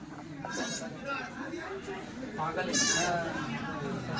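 Sheep and Kathiyawadi goats newly arrived by vehicle bleat loudly and nearby in a couple of clear calls over a constant murmur of people talking.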